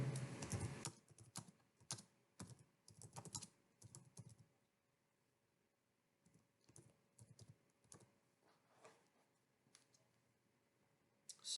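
Typing on a computer keyboard while editing a file for an MVC project, with quiet, close key clicks in uneven bursts separated by pauses.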